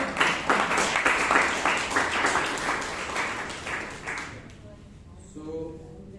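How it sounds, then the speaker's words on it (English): Audience applause for guests at a Toastmasters club meeting in Bangalore: steady clapping from a room of people for several seconds, fading out near the end, then brief quiet with a faint voice. "Please give them a round of applause."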